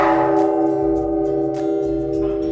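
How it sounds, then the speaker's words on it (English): A temple bell in Taiwan, hung beneath a small bell tower, rings out with a sustained, resonant tone that lingers and slowly decays through the whole stretch. "Ring the bell"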